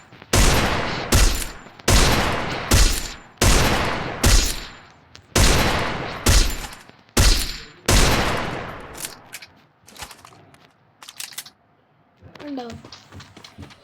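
Gunfire in a shooting video game comes as about nine loud, close bursts of rapid shots at a fairly regular pace, followed by a quieter stretch of lighter clicks and a brief voice.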